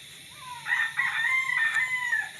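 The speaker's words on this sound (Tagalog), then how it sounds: "Astig talaga itong manok na to." A rooster crows once, loud and close, a drawn-out call over a quiet background.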